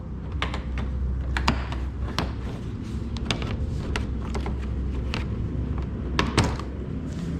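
A plastic rock guard being pulled off a Corvette fender gives a series of sharp close clicks, snaps and crackles at an irregular pace over a low steady background.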